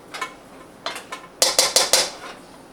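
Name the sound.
mixing and chopping rice for Cajun boudin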